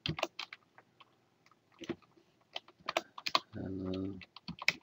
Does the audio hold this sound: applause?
no